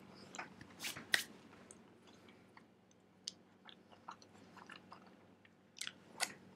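Close-up chewing of sweet sticky rice: soft wet squishes and sharper smacking bites in irregular bursts, loudest early on and near the end, with quiet pauses between and no talking.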